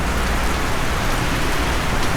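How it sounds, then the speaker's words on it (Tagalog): Sudden heavy rain pours down steadily, a dense, loud, unbroken hiss of drops hitting surfaces, with no voices. "Biglang buhos ng ulan."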